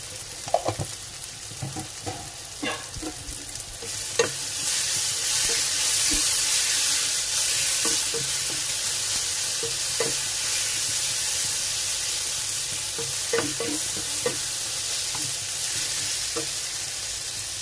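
Potatoes and onions for a cheese masala dosa filling fry loudly in a pan, with a dense, continuous sizzle and hiss. Scattered clinks and scrapes of stirring cut through, and the sizzle swells once more ingredients go in.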